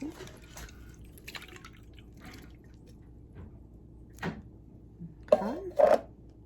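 Drips of pineapple juice fall from draining pineapple rings as a few sparse, sharp liquid plinks, mostly faint with a couple of louder drops near the end over a quiet room background.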